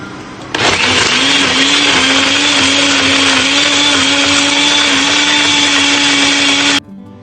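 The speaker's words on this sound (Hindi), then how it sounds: "तो अब इन सब चीज़ों को हम डाल के ब्लेंड कर लेते हैं।" A blender whirs loudly and steadily for about six seconds while blending mint margarita ingredients, then cuts off abruptly, with no talking.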